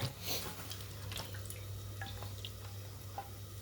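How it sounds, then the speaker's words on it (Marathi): Green chillies rinsed by hand in a sink with running water, giving a steady trickle with scattered drips and light splashes, close and fairly quiet, with no talking. "अशा पाणी टाकलं, खळखळ धुवून घेतले मी मिरच्या"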